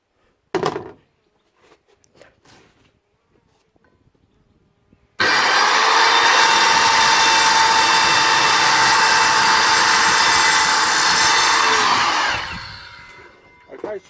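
A Kreg Rip-cut guided circular saw cutting wood: a few handling knocks, then the saw starts abruptly and roars loud and steady for about seven seconds before winding down.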